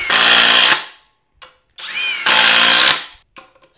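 A Flex 24 volt drill on speed 3 drives a four inch timber lock screw in two loud, sustained bursts with a brief pause between, each ending as the motor winds down, followed by small clicks.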